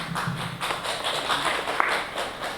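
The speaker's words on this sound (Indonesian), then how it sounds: "Tepuk tangan" An audience at a talk on endolift and face sculpting gives steady applause, moderately loud and continuous, with a murmur of voices underneath and one sharper clap standing out near the end.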